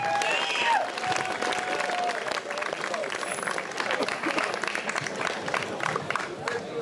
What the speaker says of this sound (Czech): můžeme všem našim soutěžícím poděkovat a zhluboka jim zatleskat